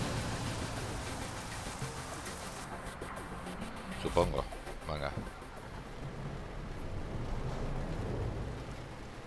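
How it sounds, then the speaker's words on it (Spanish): Steady rain patters on a truck in Euro Truck Simulator 2, a soft continuous hiss throughout, while someone talks briefly over it. "Y está lloviendo."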